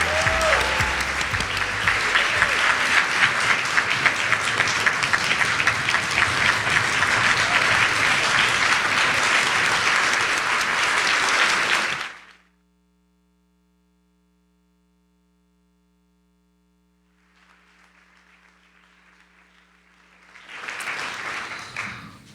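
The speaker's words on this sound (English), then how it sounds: "let's give a huge round of applause" At a Celebration of Giving event, the audience breaks into loud, sustained applause for about twelve seconds, then it goes abruptly silent; faint noise returns, followed by a short renewed burst of clapping.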